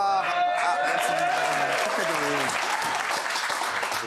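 Audience applause at a French political rally honoring women's rights, with sustained clapping filling the whole stretch and a voice briefly audible over the crowd.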